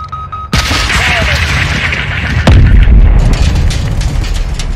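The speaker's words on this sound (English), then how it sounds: "Incoming missile." A missile explodes in Call of Duty: Modern Warfare 2 with a sharp loud onset and a deep rumbling boom. A second heavy impact lands midway amid continuous battle noise, with voices speaking in the mix.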